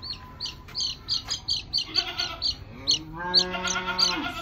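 Repeated high, wavering bleats from a goat sound close by, with bird chirps scattered around them; no one speaks.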